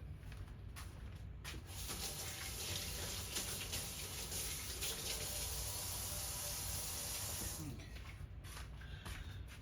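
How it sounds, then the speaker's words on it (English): A kitchen tap runs steadily while hands are washed at the sink, a loud, continuous hiss of splashing water close by, easing off near the end, with no talk. "I'm going to go wash my hands real quick"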